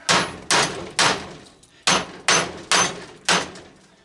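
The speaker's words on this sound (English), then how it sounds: "Usually a few good whacks, because I may have to use a bigger hammer." Repeated hammer whacks strike a propane regulator being broken apart for its brass, seven sharp metallic impacts in an uneven rhythm, each ringing briefly before the next, loud and close with no talk.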